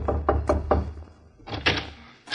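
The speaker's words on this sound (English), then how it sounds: "See who's at the door, James." A run of four firm knocks on a door, then a pause and a second cluster of louder knocks and thuds, close and dry against a quiet background with no talking.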